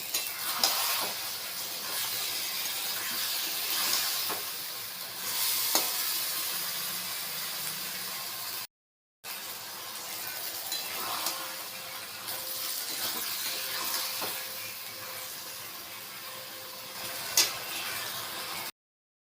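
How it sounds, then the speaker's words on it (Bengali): Mutton sautéing with boiled peas in a hot pan, a steady sizzle and hiss with occasional stirring scrapes, close and continuous with a brief break midway. "সেদ্ধ করা মটরগুলো দিয়ে কষছি এবারে"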